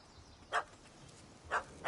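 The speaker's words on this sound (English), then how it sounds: "Don't know how to handle yappy little dogs?" Small dog in The Witcher 3 yapping twice, two short sharp barks about a second apart, fairly faint against a quiet background.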